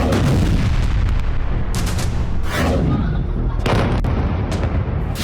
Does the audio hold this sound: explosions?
yes